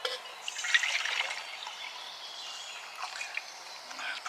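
Water is poured for brewing coffee over campfire coals, a light trickling splash that swells and fades, fairly close and fairly quiet, with no talk.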